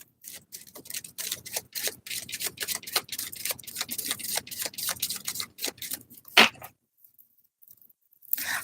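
Rapid papery riffling and flicking of cards, a steady run of soft crisp snaps for about six seconds, then a sharp slap and near silence.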